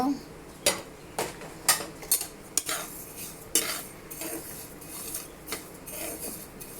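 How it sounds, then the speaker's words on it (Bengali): Cumin seeds dry-roasted in a pan, heard as a series of sharp metallic scrapes and clinks from a spoon against the pan over a faint hiss, close and irregular, with no clear talking. "জিরা ভাজবো।"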